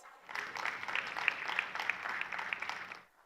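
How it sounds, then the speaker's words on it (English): Audience applause welcoming a speaker at a large investment event in Odisha, a dense burst of clapping that swells quickly, holds for about three seconds, then fades out. "Let's welcome her with a round of applause"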